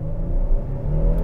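A Hyundai Palisade SUV with H-Track all-wheel drive launches from a torque-brake hold at night, its engine giving a steady low rumble for a brief moment.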